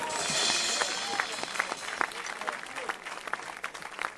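Audience applause from a church congregation during a sermon, a dense sustained clatter of many clapping hands that starts strong and gradually thins, with faint voices mixed in.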